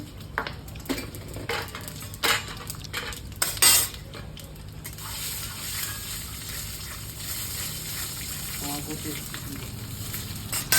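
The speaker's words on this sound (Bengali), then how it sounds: "গরম তেলে একটু সামান্য হলুদ দিয়ে দেব কালো জিরে দুটো শুকনো লঙ্কা আর গোটা জিরে দিবি" Turmeric, nigella seeds, two dried chillies and whole cumin hit hot oil and sizzle and crackle in the pan, with a few clinks of utensils and sharper spits and pops during steady frying.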